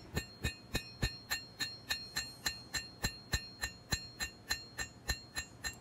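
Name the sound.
hammering steel blade bevels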